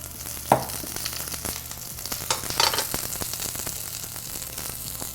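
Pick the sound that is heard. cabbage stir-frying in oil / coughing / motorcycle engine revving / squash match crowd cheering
cabbage stir-frying in oil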